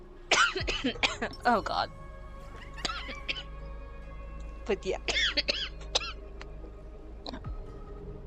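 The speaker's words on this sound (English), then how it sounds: "I just started coughing." A person coughs in several harsh bursts between brief spoken remarks, close and loud, with a faint steady background hum.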